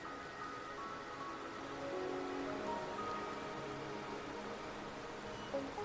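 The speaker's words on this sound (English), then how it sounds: "The rain is subsiding" Rain falls softly and steadily in the video game Wuthering Waves, a faint even patter layered under quiet tonal ambient music.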